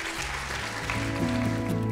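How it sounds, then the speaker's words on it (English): Brief applause from an audience for four clinicians at a gene therapy event, fairly soft clapping under music that rises in the background. "Quick round of applause for our 4 amazing clinicians."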